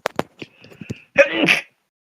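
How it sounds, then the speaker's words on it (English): A single sharp sneeze, preceded by a short voiced intake and a brief breathy burst, close and alone against silence. "Make sure you cover your sneezes."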